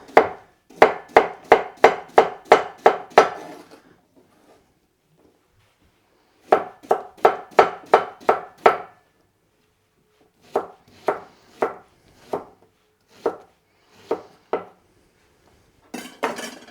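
Knife slicing Persian cucumbers on a cutting board: crisp, close chopping strokes in quick bursts of about eight, pausing, then another run and a few slower, spaced cuts, with no talk.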